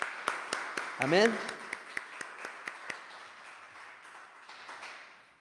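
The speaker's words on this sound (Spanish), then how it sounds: "Vamos a dar otro aplauso de alabanza al Señor." A congregation claps in praise during a church service: sharp, evenly spaced claps ring out in a reverberant room, a steady rhythmic clapping that slowly fades, with a brief spoken word near the start.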